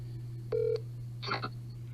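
Telephone dialing tones while calling a cell phone: one steady tone burst near the middle, then a shorter cluster of rapid tones, all over a constant low hum.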